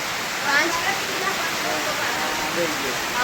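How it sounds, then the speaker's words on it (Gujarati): Steady rain pouring down outdoors, a dense even hiss that is close and moderately loud, with a few faint voices underneath. "વરસાદ પડી રહ્યો છે"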